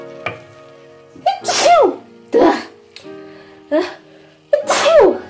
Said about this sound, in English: I don't normally sneeze this much